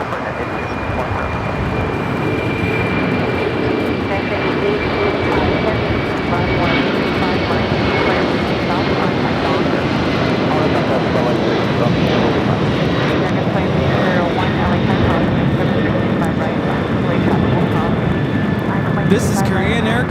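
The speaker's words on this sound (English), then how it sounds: "This is Korean Air Cargo 8210 taking off to Seattle on the 747-400 freighter." A Korean Air Cargo Boeing 747-400 freighter takes off from LAX, its four jet engines producing a loud, sustained roar with a thin high whine running steadily across the whole stretch.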